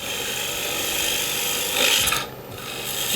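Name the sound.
gouge making a curved push cut on a wood lathe bowl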